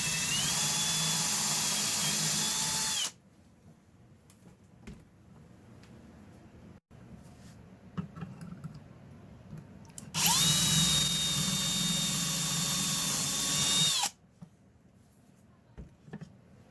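A power drill with a 6mm bit bores pilot holes for kitchen cabinet drawer slides in two whining bursts of about three and four seconds, separated by quiet handling clicks and knocks.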